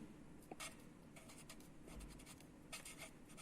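Pen scratching across paper as someone writes, soft continuous scribbling strokes with a few sharper ticks, close and quiet against a steady background hiss, no voices.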